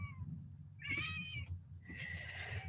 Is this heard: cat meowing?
yes